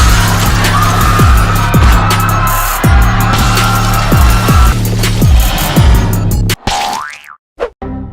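Giant water balloons crash down on a Lego city in a video game: a steady run of rhythmic bouncy thumps over a dense rumbling bed for several seconds, ending in a few sharp isolated hits and a brief springy twang.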